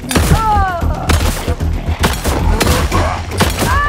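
A nail gun fires repeatedly in a video game, rapid punchy thumps and snaps in quick succession under excited talking and laughter, close and loud throughout.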